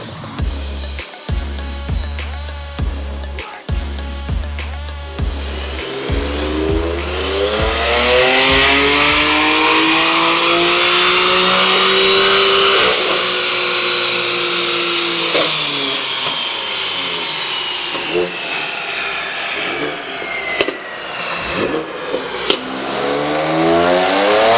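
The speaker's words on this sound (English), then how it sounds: "they're doing some dyno runs on the F80 M3" A BMW F80 M3 engine on a dyno, loud and close: a few short revs build into a long sustained wide-open pull that climbs and then holds high before settling, with no talking.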